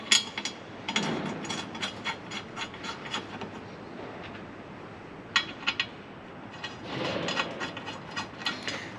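A hand tool tightens the bolts on a rock rail step being fitted to a Ford Bronco. Close, fairly loud clicking comes in bursts of quick ratchet-like ticks with short pauses, and there is no speech.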